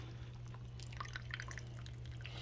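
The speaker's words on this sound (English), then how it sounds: "we'll use this and we'll scoop these noodles out" Cooked noodles for a chicken noodle casserole are scooped out of their hot liquid, giving soft scattered drips and splashes of liquid falling back, faint over a steady low hum with no talk.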